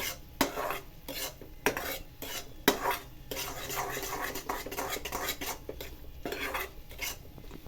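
Rajgira flour being roasted in a pan with a spoon, repeated scraping and stirring strokes with sharp metal clinks against the pan over a low sizzle, close and moderately loud.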